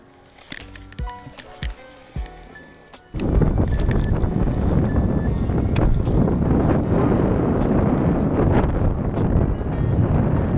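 Strong wind buffets the microphone outdoors on the water during a fishing outing, starting at about three seconds as a loud, continuous roar after a quieter stretch of faint clicks and tones.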